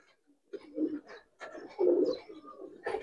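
Old Dhaka giribaz and coloured pigeons coo nearby in low, throaty bursts, several rolling calls in quick succession.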